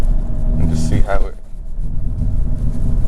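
A 2022 Hyundai Kona N rolling on from second gear, its engine rumbling steadily up close as the car accelerates, with a person talking over the drone.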